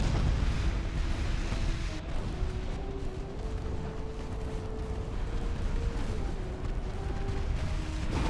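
Naval guns and explosions rumble through a sea battle in Ultimate Admiral: Dreadnoughts, a dense, continuous booming with heavy low-end thuds and an ongoing tonal hum underneath.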